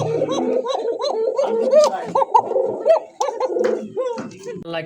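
Pigeons for sale at a market coo close by in repeated rolling, bubbling calls that overlap almost continuously. Faint voices are heard beneath them.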